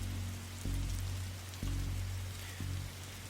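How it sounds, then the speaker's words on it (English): Rain falls steadily in the video game The Darkside Detective, a continuous soft hiss of drops under a low droning hum that swells and dips in repeating cycles, with no talking. "whenever standing in this rain stops being fun for you"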